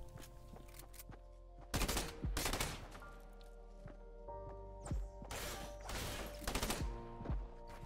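Video game gunfire crackles in several loud bursts of rapid shots separated by short pauses, with tonal game sounds humming underneath.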